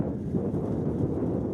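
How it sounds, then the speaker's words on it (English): Gusting wind buffets the microphone at an outdoor soccer friendly between the Portland Timbers and Colorado Rapids, a steady low rumble that holds loud and continuous throughout with no voices. "Wind is gusting."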